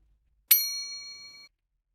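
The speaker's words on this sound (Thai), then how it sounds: "เสียงโทรศัพท์ดังขึ้นฉันควักมือถือขึ้นมาดูมาเรียส่งข้อความมา" A mobile phone message notification sounds as a single bright chime that starts sharply, rings clearly for about a second and then cuts off, alone in silence.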